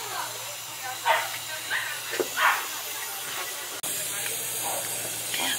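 Broad steady hissing of steam from an arriving steam train fills the scene at a lakeside railway, with scattered voices murmuring and a sharp shift partway through as the hiss grows brighter.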